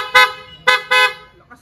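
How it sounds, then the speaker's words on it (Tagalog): A Mio Soul i 125 motorcycle horn gives three short, bright beeps close by, the first separate and the last two in quick succession, followed by a faint brief click. "Kaya busina."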